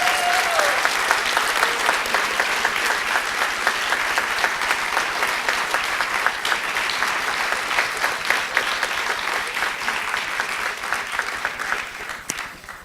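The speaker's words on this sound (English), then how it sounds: "A round of applause for Lauren Breland." Steady, sustained applause from a ceremony audience for a Peace Corps award recipient, dense and even clapping that continues loudly for the full stretch before tapering slightly at the end.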